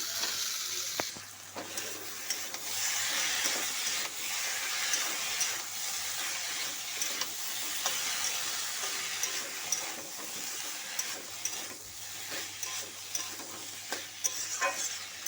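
Boiled potato and banana flower tossed with spices in a hot pan, giving a steady close sizzle and scraping stir-fry sounds that run continuously with no talk.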